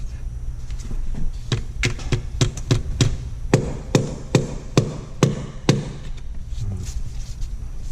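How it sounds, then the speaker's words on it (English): A hammer strikes the metal valve cover of a BMW 328i N20 engine in a run of sharp taps, about a dozen blows at an uneven pace, close up over a low background hum. "So let's try the hammer first."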